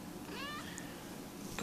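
A Russian Blue cat gives a single short, fairly faint meow over a steady low background hum indoors.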